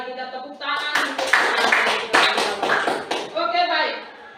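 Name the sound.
class applauding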